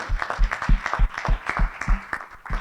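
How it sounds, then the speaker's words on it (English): Conference audience applauding together in a hall, a fairly loud wash of many hands clapping with uneven bursts, steady across the short stretch with no talk over it. "Please give yourself a round of applause."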